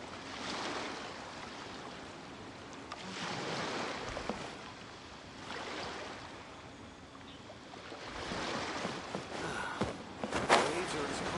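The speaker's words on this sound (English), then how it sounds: "Waves are as calm as always." Calm ocean waves wash steadily in the video game Genshin Impact, with a continuous soft surf and rushing swells rising and falling over several seconds, with game sounds mixed in.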